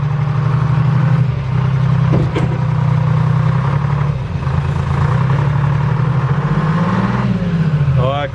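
An old 1960s Pettibone machine, started after sitting for years, runs with a loud, steady low engine drone, its pitch wavering slightly as the boom moves, with a few knocks and a rising whine near the end.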